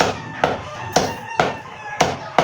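Sharp, heavy chopping strikes of a blade cutting raw chicken on a board, about five evenly spaced blows, close and loud with no talking.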